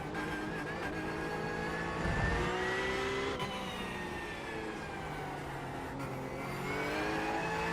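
A GT3-style race car engine on throttle in the iRacing sim, holding a steady harmonic drone with pitch sweeping up and down as it powers through oversteer, loud and continuous with no talk.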